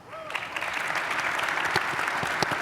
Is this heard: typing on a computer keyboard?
no